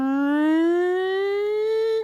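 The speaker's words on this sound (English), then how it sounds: "you're going to see me start to slide my fingers gradually off the tone holes for what's called a glissando effect" A wind instrument plays a smooth, sustained glissando, the fingers sliding gradually off the tone holes. The pitch climbs steadily like a siren starting up and settles on a high C, loud and clear with no other sound.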